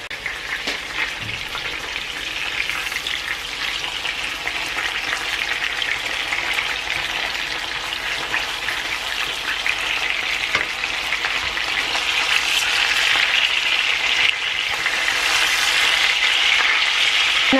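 Chicken pieces fry in a pan, a continuous bright sizzle and crackle that swells louder toward the end as the pieces are turned over, with faint utensil clicks.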